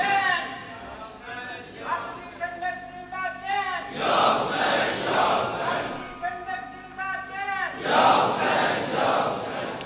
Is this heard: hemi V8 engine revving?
no